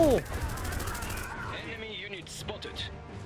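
Rapid bursts of gunfire and heavy cannon blasts from the Iron Harvest 1920 strategy game, an opening boom followed by rattling volleys and scattered shots, mixed with someone talking over the action.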